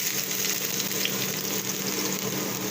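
Garlic, onion and ginger sautéing in olive oil for pork adobo, a dense, continuous sizzle close up that holds steady throughout with no talking.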